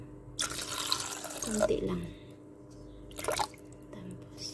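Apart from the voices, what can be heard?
water being poured into brownie batter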